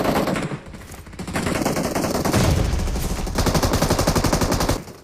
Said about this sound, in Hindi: सामने एक तरफ भयानक फायरिंग हो रही थी